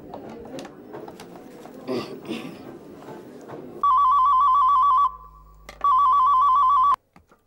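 A telephone ringtone sounds in two loud bursts of a repeating electronic warble, cutting in after a stretch of low background murmur.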